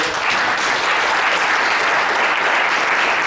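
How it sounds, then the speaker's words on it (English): An audience claps in sustained, dense applause at a lecture event, loud and even throughout. "Let's give her a round of applause."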